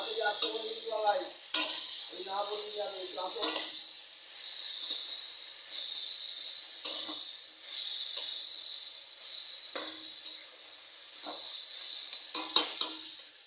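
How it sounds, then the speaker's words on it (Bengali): Vegetables with onion and tomato frying in a pan for a beans-and-potato kofta curry: a soft, steady hiss with sharp spatula taps and scrapes at irregular intervals, and a voice murmuring briefly at the start. "আমার সবজিগুলো ভাজা ভাজা হয়ে গেছে"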